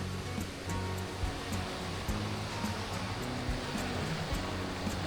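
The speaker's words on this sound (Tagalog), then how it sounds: "Isang pahabang ilog talaga siya." River water flows steadily along a long stretch of river at a Bulacan riverside campsite, a continuous broad rushing wash with low rumbling beneath, close and fairly even throughout.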